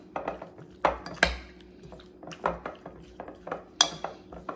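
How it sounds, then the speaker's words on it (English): A pepper steak marinade being mixed in a bowl, with close, irregular clinks and scrapes of a utensil against the dish, some sharper knocks among softer stirring. "And we're going to mix this all up."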